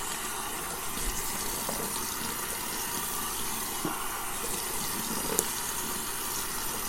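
Tap water runs steadily into a sink during a shave, a loud, continuous splashing rush with small shifts as hands wet the face, with no talking.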